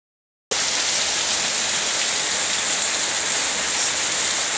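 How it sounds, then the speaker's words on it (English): Torrential rain pours down steadily in Oxnard during a lightning storm, a dense, continuous hiss that starts abruptly after a brief silence and holds loud and unbroken throughout, with no voices. "We got a torrential downpour and lightning."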